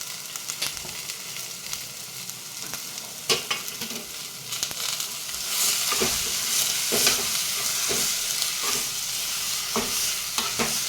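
Cut capsicum pieces stirred in a hot pan with homemade black masala, giving repeated scraping spoon strokes over a steady sizzle that grows louder partway through, with no one speaking.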